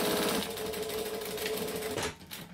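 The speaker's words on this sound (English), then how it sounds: "we're going to stitch up to the zip, but not over it, and then backstitch because we always backstitch" A sewing machine runs steadily, stitching a seam on a bowler bag up to the zip, then stops near the end and leaves a brief quieter tail.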